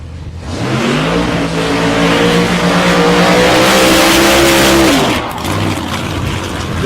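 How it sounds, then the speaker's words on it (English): A Chevrolet Monza with a 496 big block Chev engine holds a long, loud burnout at a drag event, its steady high-revving roar running for about four seconds before easing off. "Chevy's just quite a long burnout down there."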